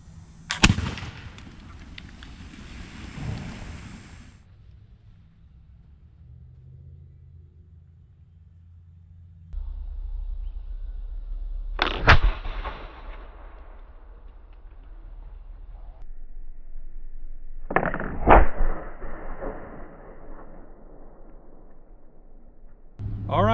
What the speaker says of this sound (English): And now I'm going to shoot it for real to give you guys an idea of what it would have looked and sounded like.